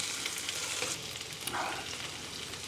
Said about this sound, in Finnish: annetaan niiden paistua rauhassa tuossa pannulla ensin kääntelemättä